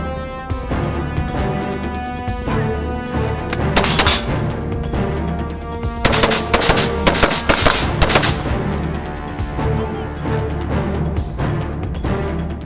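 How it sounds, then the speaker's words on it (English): Rapid gunfire downrange at targets on a firing range: loud close shots in fast strings, with sharp cracking peaks and some metallic impact and shattering noise between bursts. "This allows the shooter to return fire downrange at an additional target, this time with lethal force."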